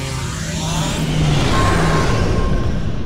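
A starship in Star Trek Online engages its slipstream drive, a loud steady roaring whoosh with a faint rising tone, growing slightly stronger midway and holding to the end.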